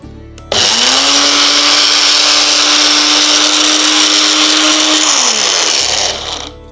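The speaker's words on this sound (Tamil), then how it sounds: "இந்த சிறுகீரையை அரைச்சி நம்ம சாறு எடுத்துக்கிட்டோம்" An electric kitchen blender grinds siru keerai (amaranth greens) into juice, a loud steady whirring motor drone that starts abruptly, holds for about five seconds, then winds down and stops, close and alone.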